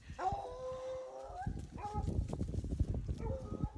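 Several dogs howl together in long, wavering drawn-out cries, close and loud, with overlapping voices rising and falling and a rougher chorus of yips and howls in the second half.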